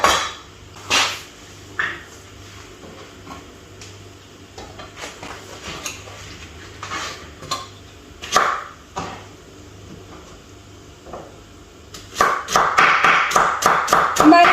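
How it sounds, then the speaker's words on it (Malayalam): A knife chops okra on a cutting board in a home kitchen, with scattered sharp taps at first and then a quick, steady run of close chops near the end. "ഒട്ടും സമയം കളയാതെ നമ്മുടെ വെണ്ടയ്ക്ക വെക്കണേ നമുക്ക് ഇതുപോലെ തന്നെ അരിഞ്ഞെടുക്കാം"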